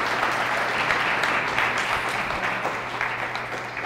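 An audience at a talk about surviving genocide applauds steadily, a dense wash of clapping from many hands that holds at a constant level for the whole stretch.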